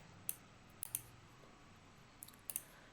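Crisp computer mouse clicks, about six sharp taps in small pairs and singles spread over a quiet background, close and clear with no voice.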